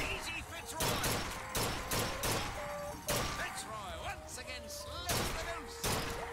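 Gunshots ring out in Bioshock Infinite, several sharp punchy bursts spread across a few seconds, mixed with game music and a voice.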